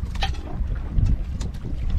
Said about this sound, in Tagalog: Pero, malakas na yung hangin.